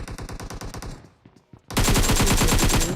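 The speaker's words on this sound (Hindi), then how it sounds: "हर कोई हम पे गोली चलाने लगता है" Gunfire in the mobile battle royale game PUBG Mobile: rapid automatic bursts of close shots, a brief pause with quieter distant fire, then a loud, sustained stream of fast shots.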